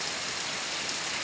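Heavy rain pours down steadily in a dense, continuous hiss with no break or pause.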